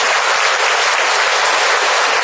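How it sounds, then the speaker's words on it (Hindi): Loud, dense applause fills a church retreat gathering, a steady wash of many hands clapping close by with no break and no speech over it. "जोरदार ताली बजाकर सबको धन्यवाद"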